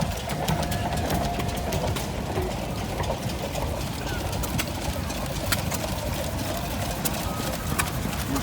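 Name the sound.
vintage small stationary gas engine running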